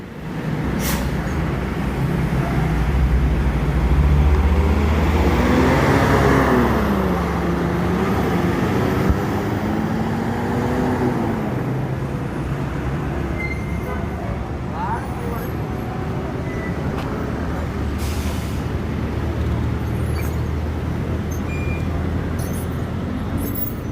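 A convoy of three Sumatran buses rolls along the road with a steady low engine rumble and traffic noise, while people talk nearby throughout.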